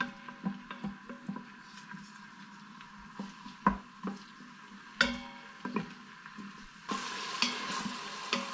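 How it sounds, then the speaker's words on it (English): Chopped red onion and a cut-up garlic clove fry together for a beef stew in a Midea Instachef cooker, a steady soft sizzle broken by frequent clicks and scrapes of stirring, close by and without talk. "I've added 1 red onion, and 1 garlic clove that I've cut up. I'm just going to fry that together for a bit."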